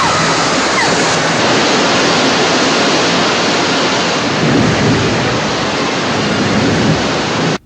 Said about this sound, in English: And there they go into the rapids.